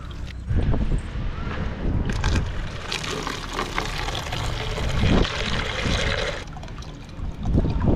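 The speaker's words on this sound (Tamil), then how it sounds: "இப்போ இந்த செடிக்கு நம்ம கொஞ்சம் தண்ணி ஊற்றிடலாம்." Water poured from above onto a pea plant growing in a growbag on a rooftop garden, giving a splashing, gushing pour that rises and falls in bursts over several seconds.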